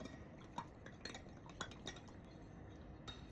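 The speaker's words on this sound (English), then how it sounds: "So we just stir it until it's all dissolved." A spoon stirring sugar into pickling liquid for carrots, clinking lightly against the container in a few sharp taps amid soft swirling, close and quiet.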